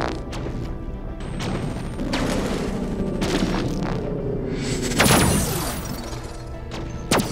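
Weapons fire from a spaceship fleet battle in Endless Space 2, with heavy crashing impacts and booming blasts in irregular bursts, one especially loud hit near the middle, and no talking.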